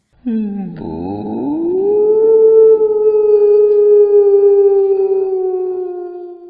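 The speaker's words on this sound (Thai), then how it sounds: "สลับกับเสียงหมาหอนโหยหวน" A dog howls mournfully in a single long, rising then sustained wail, loud and close, heard alone as an eerie sound effect in a Thai ghost story.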